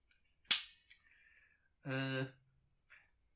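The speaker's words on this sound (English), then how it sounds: "this sort of has a hollow spring sound to it" A sharp snap followed by a smaller click, then a brief springy, resonant twang, as the flash sync cover of a Fuji GW690III camera snaps shut; quiet between.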